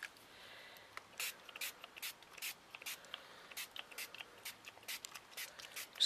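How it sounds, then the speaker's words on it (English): Short bursts of spray paint hiss onto a wooden board come one after another in quick, uneven pulses, quiet and close, with soft rustling in between. "Spraying my whole board."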